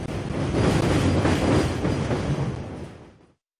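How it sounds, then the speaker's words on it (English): Freight train rolling along the rails, a loud close rumble with steady clattering wheels that runs continuously, then cuts off abruptly near the end, with no voices. "Freight train."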